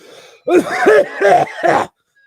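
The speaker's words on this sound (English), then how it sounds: "Sorry, I'm clearing my throat." A person clears their throat in a few gruff, rasping bursts close to the microphone, then falls quiet.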